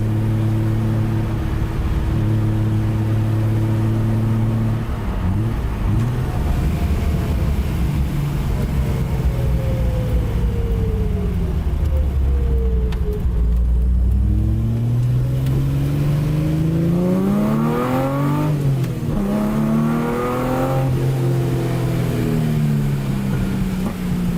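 Revving engine of a white Nissan Z fitted with a new exhaust setup, loud and close, with rising and falling revs throughout and brief voices underneath.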